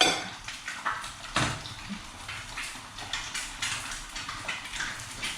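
Chinese sausage being stir-fried in a pan, heard as repeated scraping and clinking of a utensil against the pan in an irregular rhythm, with a faint sizzle underneath and no speech.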